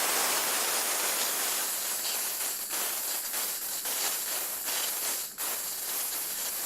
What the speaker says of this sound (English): the first thing to do, of course, is to discharge the pressure. There will be hissing and spitting at this point because there's water.